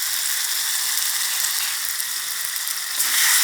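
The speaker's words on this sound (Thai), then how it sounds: "แล้วก็ผัดส่วนผสมให้เข้ากันนะคะ" Sea snakehead fish with red chilies, young peppercorns and curry paste stir-fries in a pan, a loud, steady hissing sizzle with faint scraping, alone without talk.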